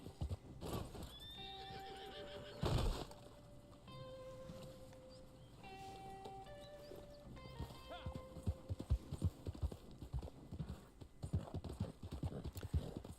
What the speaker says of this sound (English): second trader horse. So if you look at the catalog,